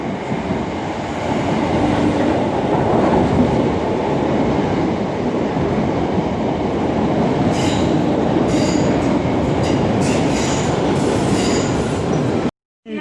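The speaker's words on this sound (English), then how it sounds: "Train is that new train I'm trying to catch." A class 345 Elizabeth line train arrives at Stratford station at night, a loud, steady rumble of wheels on rails with high squealing and clicks building near the end before the sound cuts out.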